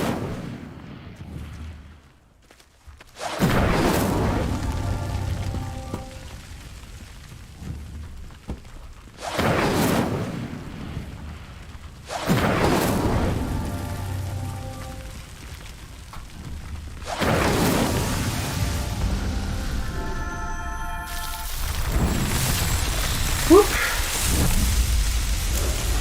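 In Hogwarts Legacy, the Incendio fire spell lights the pyres in four separate booming whooshes of flame, each a loud rushing roar that rises sharply and then slowly rumbles away, with quieter crackling between them.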